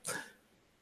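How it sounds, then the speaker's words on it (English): A dog in a home kitchen gives one short, sharp bark-like yelp that fades quickly into quiet room tone, with no talking. "I have a dog barking in my kitchen, and I think he's starting to howl"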